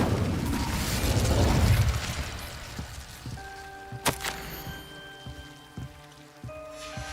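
An Incendio fire spell cast in Hogwarts Legacy rushes out as a crackling, hissing burst of flame that swells and then fades, leaving scattered pops and a faint tonal hum behind.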